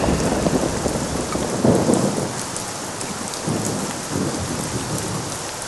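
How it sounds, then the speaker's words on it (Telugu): Heavy rain pours steadily and loudly while low rolls of thunder rumble several times underneath, with no voices. "రే గణేష్, ఏంట్రా వర్షంలో కూర్చున్నావు?"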